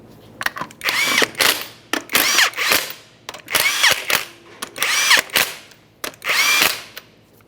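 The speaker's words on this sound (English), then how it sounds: "start on all 5 of your 19mm lug nuts" A power tool spins onto the 19mm lug nuts of a front wheel on a 2012-2015 Honda Civic. About six short, loud whirring bursts come in a quick series with brief pauses between them, and no one speaks.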